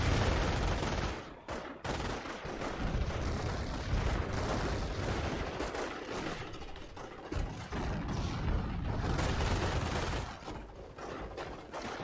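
Dense video-game battle noise with mortar blasts and rattling gunfire over a beach, a continuous loud barrage of overlapping shots and explosions with a few short dips, no voices heard.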